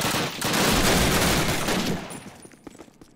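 Gunfire erupts in the 2003 Call of Duty video game, a dense burst of overlapping shots in a fusillade lasting about two seconds, then thinning to a few scattered distant shots.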